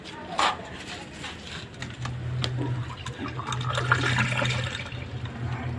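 Unfiltered water flows straight from a household pipe in a steady, close gush that strengthens partway through, with faint voices around it.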